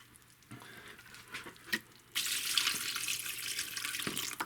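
Water pours into a small worm composting container of absorbent pellets, starting with a few faint clinks and handling noises, then a steady close splashing stream.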